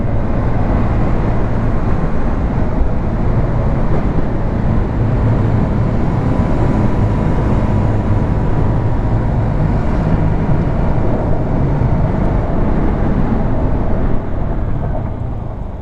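KTM Duke 125 motorcycle engine running steadily during a ride, a loud continuous drone thick with wind rush that holds for the whole stretch without pause.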